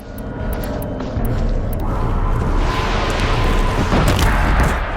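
Explosion in the Horizon Zero Dawn video game: a loud, rumbling blast that swells and roars for several seconds over a dense noisy game soundscape.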